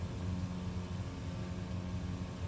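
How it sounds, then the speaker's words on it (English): A light aircraft's engine, the Aviat Husky in Microsoft Flight Simulator 2020, drones steadily as it overspeeds, a continuous low rumbling hum with no breaks or voices. "Yep, engine's overspeeding, so we'll not go to full power."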